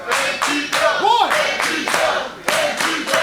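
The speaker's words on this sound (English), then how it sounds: "The crowd is loving it" A wrestling show crowd claps in a quick, steady rhythm after a superplex from the second rope. The clapping is loud and fills the space, with voices shouting and calling out over it.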